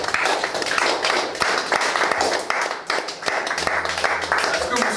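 A church congregation applauding together in Toulon, a dense continuous patter of clapping hands with sharper individual claps, filling the room with voices mixed in.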